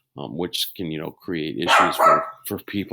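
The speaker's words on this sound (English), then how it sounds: "He likes to bark at himself in the sliding glass door because he sees a dog and he doesn't realize that it's him." A pet dog named Louie barks at his own reflection in a sliding glass door, sharp barks breaking in amid a person talking nearby.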